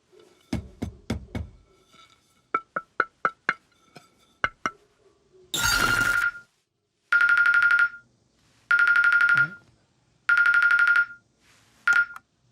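A phone rings with an incoming call from a school. Scattered clicks and a brief rustling burst come first, then a loud, close electronic ringtone repeats in four evenly spaced bursts.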